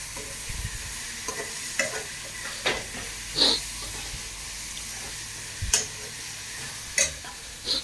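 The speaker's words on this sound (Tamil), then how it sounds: "நல்லா வதங்குது." Tamarind curry ingredients sauté in a pan with a steady low sizzle, broken by scattered clinks and scrapes of stirring and a few brief louder hisses, close and with no talking.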